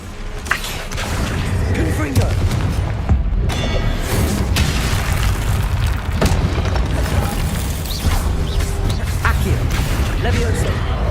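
Confringo blasting spell explosions in the Hogwarts Legacy video game, a dense, continuous rumble of booms and crashes with a loud voice calling out over the top.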